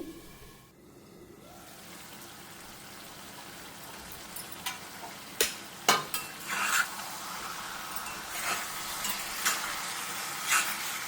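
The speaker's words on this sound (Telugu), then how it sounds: "లివర్ వేసుకొని బాగా కలిపి 10 నిమిషాలు సిమ్లో అలా ఉంచి ఫ్రై చేయండి. అలా వేగనివ్వండి." Mutton liver frying on a low flame, giving a steady, faint crackling sizzle with a few louder pops and spoon scrapes spaced through it.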